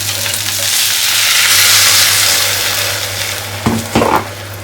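Steady, loud sizzling of a pan of wilted moringa leaves as ground spice paste goes in, ending with a few scraping stirs of a spoon.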